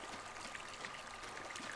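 Creek water in Firewatch flows steadily at a low level, with a continuous soft rushing and trickling babble throughout and no voices.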